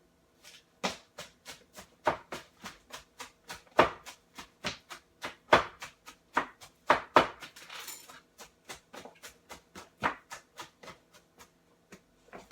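Rapid knife chopping of salad greens on a cutting board, a steady run of crisp, close taps with brief pauses, no talking.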